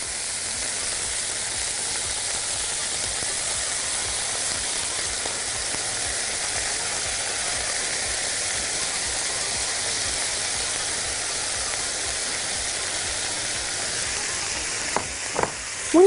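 Rice, lentils and carrots sauté in a pot for carrot mujaddara, giving a steady, close sizzling hiss that runs without a break, with a few light clicks of stirring near the end.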